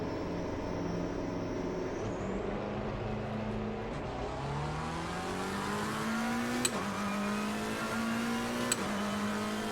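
A race car engine in Assetto Corsa Competizione drones steadily and climbs in pitch as it revs up through the gears, a continuous loud whine with brief shifts in between.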